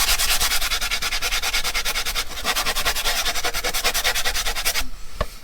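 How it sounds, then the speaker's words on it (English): Rapid rhythmic rubbing of a sanding block over an edge, brisk back-and-forth scrapes close by, ending with a pause and a light knock. "I need to get my sanding block"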